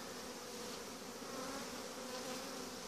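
Honeybees hum in a dense, continuous drone around an opened hive during a spring inspection of brood frames, steady and close with no talking.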